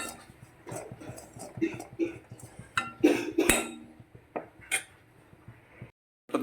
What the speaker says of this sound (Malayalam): ചട്ടി വെച്ചു